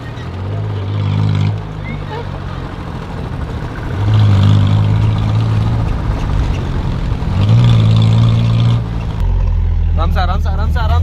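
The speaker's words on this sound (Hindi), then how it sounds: "दोनों इंजन एक साथ पावर में आएंगे।" Two Maruti Alto car engines joined together rev loudly at close range, their droning tones rising and falling in surges, with voices talking over the engine noise.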